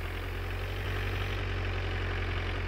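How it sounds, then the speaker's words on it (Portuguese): A Peugeot 208 engine in the video game My Summer Car idles with a deep, steady rumble like a heavy truck, droning continuously without changing pitch. "Nossa, o barulho parece caminhão."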